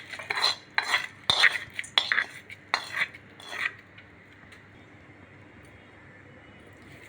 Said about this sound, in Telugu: ఇప్పుడు దీన్నంతా బాగా కలిపేసుకుందాం. తాలింపు అంతా దీనికి అంతా కలిసేటట్టుగా.